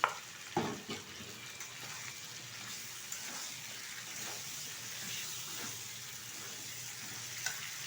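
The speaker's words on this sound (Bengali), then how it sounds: "এখন এর মধ্যে দিয়ে দেবো ভেজে রাখা পটল" Fried pointed gourd is dropped into a simmering potato and soybean vegetable curry in a pan, giving a soft thump and splash followed by a steady, gentle sizzle and hiss with faint stirring clinks.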